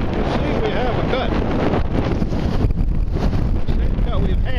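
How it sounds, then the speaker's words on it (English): Strong wind buffets the microphone in a steady, roaring rumble throughout, with gusty low-end thumps and a voice briefly audible beneath. "It's windy"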